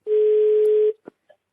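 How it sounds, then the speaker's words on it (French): A single long telephone ringing tone on a phone call, steady and clear for nearly a second, followed by two short faint clicks and blips. "J'entends la sonnerie."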